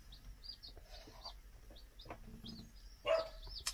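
Young chicks chirp inside a wooden brooder hut, short high peeps scattered in quick bursts with some soft clucking and shuffling, close by, without talk.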